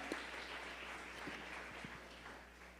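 A church congregation clapping for the Lord in a steady, diffuse wash of many hands with a low hum under it and no speech.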